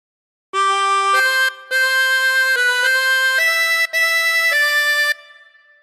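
A harmonica plays a slow carol phrase from Hark the Herald Angels Sing, blown and drawn one sustained reedy note at a time in about six steps, clear and close with no voices, the last note fading out.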